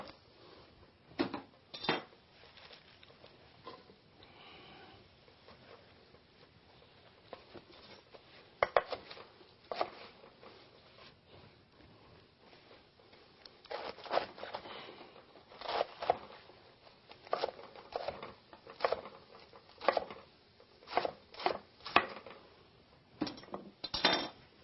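Romaine lettuce being chopped with a knife on a clean cutting board, a run of crisp, close knock-and-crunch strokes in an uneven rhythm that speeds into a denser burst of quick chops toward the end, with no talking.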